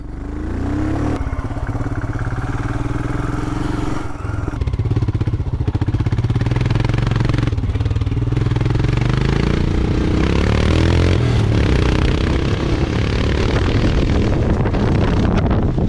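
A Royal Enfield Himalayan motorcycle being ridden, its steady engine drone rising in pitch as it accelerates, with heavy wind buffeting over the ride and no talk.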